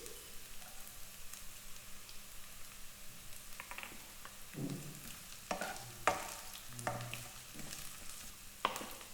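Ginger and chopped green chilies sautéed in a pan for leftover idli upma, a close frying sizzle broken by irregular scraping and stirring clatters of a spoon against the pan.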